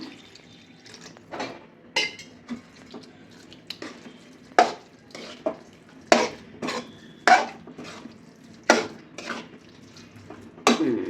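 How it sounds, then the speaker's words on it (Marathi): Cooked Tirumala temple-style khara ven pongal is mashed in a pot with a spoon, giving a series of soft, wet thuds and scrapes every second or so, close and fairly quiet. "आता हे आपण स्मॅश करून घ्यायचं, असं एकजीव झालं पाहिजे"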